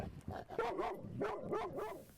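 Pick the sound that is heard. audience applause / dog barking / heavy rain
dog barking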